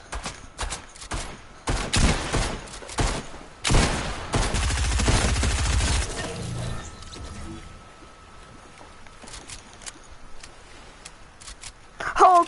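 Rapid bursts of video game gunfire, loud volleys and single shots clustered in the first half, then quieter scattered shots with a voice speaking.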